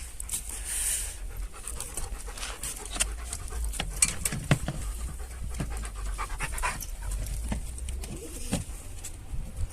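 Quick, rhythmic panting from a dog close by, continuing throughout, with pigeons cooing and fluttering in the background.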